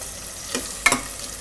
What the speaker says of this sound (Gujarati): થોડીક વાર ડુંગળીને આ રીતે ફેરવી લેવાની. થોડો કલર આનો આવો ગુલાબી જેવો થાય ત્યાં સુધી.